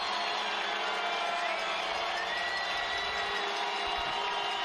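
A crowd of several thousand in a stadium roaring steadily after a goal in a USL Championship soccer match, a dense sustained cheer with faint voices mixed in.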